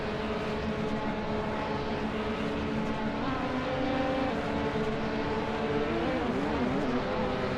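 Racing cars including a 2007 Peugeot 407 drive in a racing video game, a steady, continuous engine drone with a slight rise in pitch near the end and no talking.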